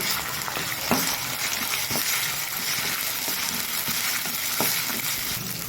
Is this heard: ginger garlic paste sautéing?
yes